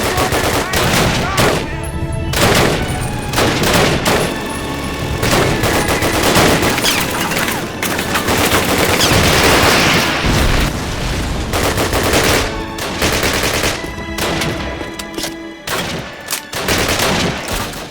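Bren machine gun fire in Call of Duty rattles in dense, rapid bursts with short pauses, loud and close, mixed with other gunfire throughout.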